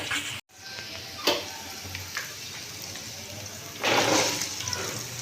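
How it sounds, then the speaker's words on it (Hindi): Coarsely chopped onion and garlic fry lightly in hot oil, giving a soft, steady sizzle with brief stirring noises and a louder burst of crackling toward the end. "अब इसको हम फ्राई कर लेंगे"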